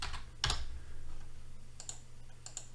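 Keys clatter on a computer keyboard while a word is entered into a software expression editor: a few quick, close clicks and taps over a steady low hum, with no talking.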